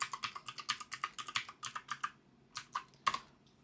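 A grep command tapped out on a computer keyboard, quick bursts of close, crisp keystrokes with short pauses between words and a final harder tap, no voices.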